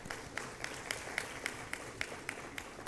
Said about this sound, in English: I would like all of you to applaud for all the presenters who are here